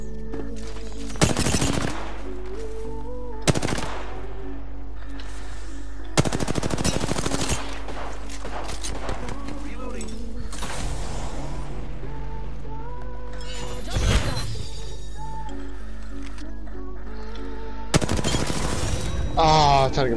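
Rapid automatic R-301 rifle fire in the Apex Legends shooter comes in several loud, sharp bursts over a steady game soundtrack, with players talking between the volleys.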